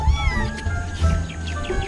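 A cat meows close by, several drawn-out, wavering cries in quick succession with a whiny, caterwauling edge, loud and clear with no talking over them.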